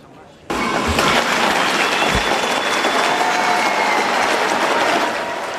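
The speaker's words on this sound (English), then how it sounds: "there were cheers in Downing Street when he had finished speaking. There was some boos at the end too" Crowd cheering and some booing in Downing Street after a prime minister's resignation speech, a loud, sustained wash of outdoor crowd noise starting abruptly and holding steady throughout.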